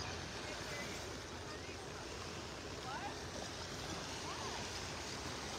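Soft, steady wash of surf on a quiet morning beach in North Naples, Florida, a continuous low hiss of waves with faint breeze and a few distant bird chirps, no nearby activity.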